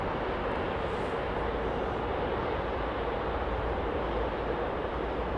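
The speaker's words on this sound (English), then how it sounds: "look what's coming into shot, which is going to nose bop us now. Embraer E175 with KLM" A KLM Embraer E175 airliner arriving at London Heathrow, its engines a continuous broad roar that stays steady and fairly close throughout, with no talk.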